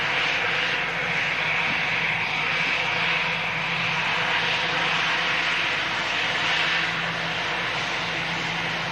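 An airplane engine gives a steady, broad roar that holds at an even level for the whole stretch, heard from a plane-spotting spot with no talking over it.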